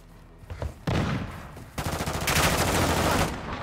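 Gunfire in the video game Call of Duty: Modern Warfare II: a few scattered shots, then loud sustained bursts of automatic fire that swell into a dense, continuous barrage close by.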